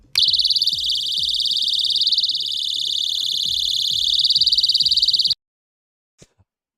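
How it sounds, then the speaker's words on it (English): Loud 130-decibel keychain personal alarm shrieking with a piercing, warbling electronic tone, continuous for about five seconds before cutting off abruptly, then a couple of faint clicks. "I'm gonna spare you right there because it is a loud alarm."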